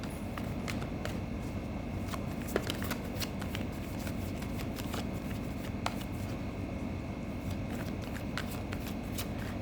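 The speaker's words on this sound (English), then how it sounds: "let's pull out some more cards for you" Tarot cards being shuffled and drawn, a dense continuous riffle of soft papery flicks and slaps, close and steady throughout with no talking.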